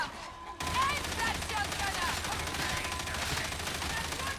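Dense shotgun and gunfire rattle in a Warhammer game firefight, a continuous crackling barrage starting abruptly and holding steady at moderate loudness, with faint voices underneath.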